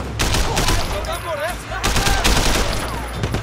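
Bursts of automatic gunfire and rapid shots from the video game Sleeping Dogs, loud and dense throughout with brief gaps, a voice talking over the shooting.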